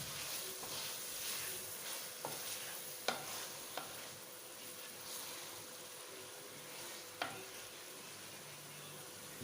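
Minced meat (keema) with kachnar buds fries and sizzles in a pan, a steady close hiss broken by several sharp stirring scrapes and clacks of a utensil against the pan.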